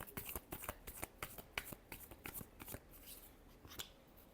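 Tarot cards are shuffled in quick, crisp riffles and taps, close and quiet, in a rapid uneven patter that slows near the end.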